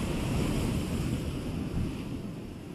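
Ocean waves crash on the rocky shore near Portland Head Light at dawn, making a continuous loud roar of surf mixed with gusting wind noise, with no voices.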